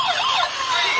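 A toy ambulance siren switched on gives a loud, wavering electronic wail that rises and falls continuously through the whole second.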